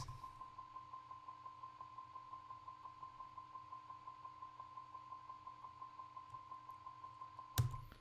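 A bell sample pitched up an octave plus a fifth rings as one high, piercing note, pulsing in a fast, steady repeating rhythm, with a brief louder hit near the end.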